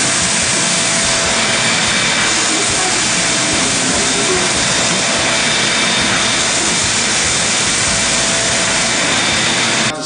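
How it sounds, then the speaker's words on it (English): A wet vac extracts water from a tile floor, giving a loud, constant roaring suction hiss close by that holds steady with no talk throughout. "So all we're going to do now is extract this with a wet vac."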